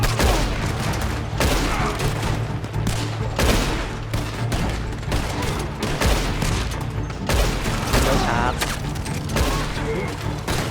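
Repeated gunfire from a cowboy-era shooter game, Red Dead Online, with bursts of shots and booming reports over a steady low rumble of game ambience and music across the whole stretch, loud and dense.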